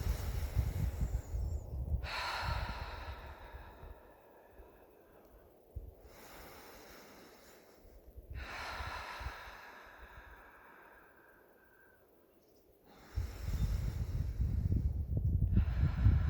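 Slow, deep breaths taken in and let out outdoors, each long airy inhale and exhale clearly audible and close, repeating about three times with pauses between and a low background rumble.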